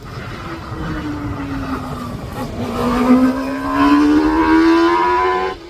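Hill climb race car engine at Craigantlet, a sustained droning note that dips slightly and then climbs steadily as the car accelerates, growing louder toward the end.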